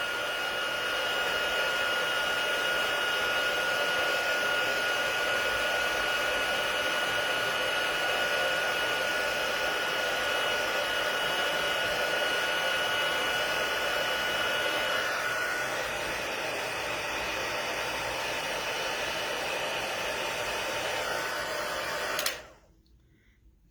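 A heat tool blows steadily and loudly for over twenty seconds while melting embossing powder on a handmade card, its whoosh dipping slightly in pitch near the end before it cuts off abruptly.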